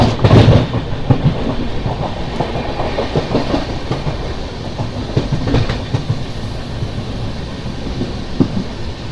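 Tirupati–Lingampalli Narayanadri Superfast Express passing close by: loud heavy rumbling with repeated clickety-clack wheel beats, strongest at the start and then a sustained rolling roar.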